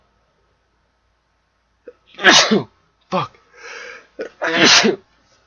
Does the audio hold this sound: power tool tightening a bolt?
no